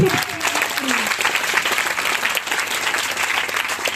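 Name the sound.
congregation applauding loudly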